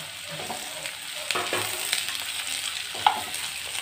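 Chopped onion sizzling in hot coconut oil for a Kerala-style potato beef curry, a soft steady crackle with a few stirring clinks and scrapes, close and without talk.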